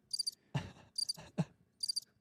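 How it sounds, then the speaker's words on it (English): Cricket chirps played as a comedic sound effect, short bright trilling bursts repeating in a loose rhythm, separated by brief low knocks and thumps, fairly faint overall with no talking. "Can we play the crickets?"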